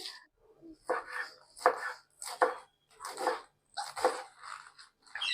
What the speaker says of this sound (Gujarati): બને એટલે આપણે ઝીણી સમારશું એને